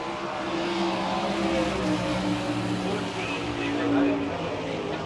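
An All Star Circuit of Champions sprint race car laps the speedway in Wichita, Kansas, its engine a steady loud drone that swells slightly near the end, with an announcer talking over it.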